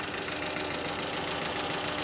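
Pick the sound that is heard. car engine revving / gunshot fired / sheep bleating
car engine revving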